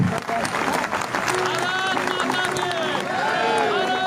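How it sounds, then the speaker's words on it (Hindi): A crowd claps at the Bharat Bachao Andolan rally in Delhi, with dense applause running under loud voices and shouting that stay prominent throughout. "एक बार जोरदार तालियों से भाई साहब का स्वागत करेंगे, जोरदार तालियों से।"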